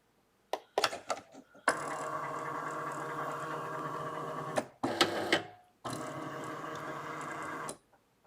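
A Cricut Maker 3 cutting machine powering on, with a few short mechanical clicks and whirs, then a steady motor hum running for several seconds, a brief pause, and another sustained run, close and fairly quiet.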